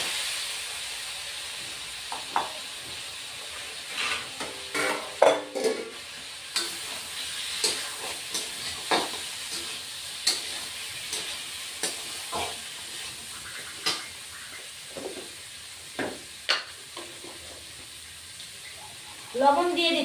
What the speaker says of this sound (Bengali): এবার ভেজে রাখা আলু আর কাঁচা কলাটাও দিয়ে দিচ্ছি।